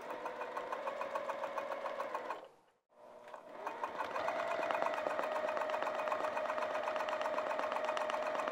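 A sewing machine stitches through vinyl, fabric and ruffle on a handmade bag in a steady, close, rapid hum. It pauses briefly near the start, then resumes slightly louder and runs on without a break.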